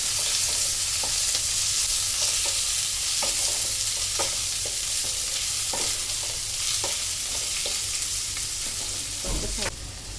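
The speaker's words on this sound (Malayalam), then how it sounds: "അപ്പോൾ ഉള്ളി മൂത്തിട്ടുണ്ട്." Onions frying in a pan for a Kerala squid fry, a steady close sizzle with repeated scraping clicks of a spoon stirring, and a sharper knock near the end.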